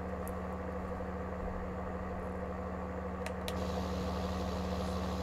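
A steady, low engine drone runs throughout with a constant hum, like a heavy tractor motor pulling at a steady load, with a couple of faint clicks; a John Deere 9520RX tractor planting in Farming Simulator 19.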